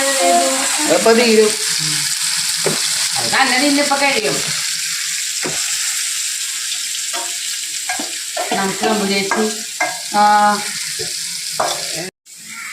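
Soya chunks fry in hot oil with a steady, loud sizzle and occasional stirring, while someone speaks over it in Malayalam throughout.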